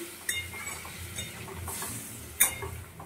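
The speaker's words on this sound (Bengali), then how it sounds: "এবার একটুখানি নেড়ে দেবো আবার।" A spoon stirs through a cooking pot of curry just after water is added, with a few scattered clinks against the metal and one sharper knock near the end, quiet and close.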